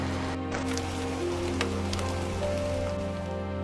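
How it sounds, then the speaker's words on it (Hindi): Heavy rain pours steadily with a dense, hissing patter, accompanied by sustained low musical tones underneath. "गांव में बारिश जोरों से हुई।"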